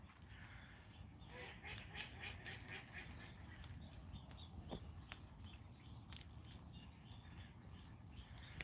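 Ducks at a pond give faint, scattered quacks and soft rustling while they approach, low in level under a steady outdoor background with no talking.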